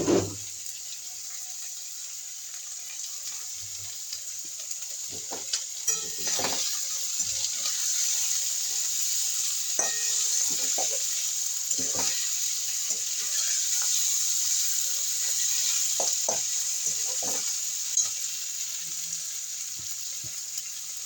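Food fries in a pan with a constant steady hiss for a long stretch. Occasional faint clicks and scrapes sound over it, and no one speaks.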